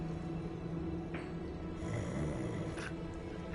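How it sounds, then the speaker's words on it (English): A goblin in Hogwarts Legacy snores in slow, soft, wheezy breaths against a low ambient game hum, faint and at a distance. "can you hear that snoring?"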